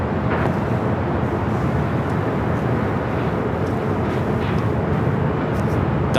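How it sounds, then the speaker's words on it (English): A Delta Boeing 767-300 airliner arriving at Los Angeles airport crosses overhead with a broad, steady roaring rumble, loud and continuous, with no talk. "Delta Airlines Flight 767 coming in from JFK, a 767 to 300 AR now crossing over."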